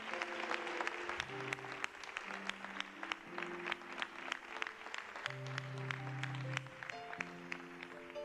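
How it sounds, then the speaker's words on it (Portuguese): Congregation applauding during a Catholic Mass after the Gospel reading, scattered clapping under organ or keyboard music, fairly faint and distant. "Vamos aplaudir."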